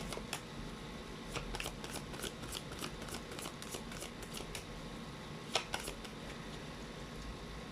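Fortune cards being shuffled and drawn, a steady soft papery rustle punctuated by crisp snaps and flicks, close and quiet over faint background hiss.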